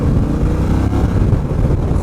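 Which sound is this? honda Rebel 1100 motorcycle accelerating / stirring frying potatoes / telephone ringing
honda Rebel 1100 motorcycle accelerating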